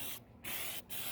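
Aerosol spray paint hissing onto a new fuel tank from about a foot away, in two bursts, a longer one followed by a shorter one, close and steady.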